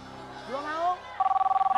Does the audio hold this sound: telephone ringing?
yes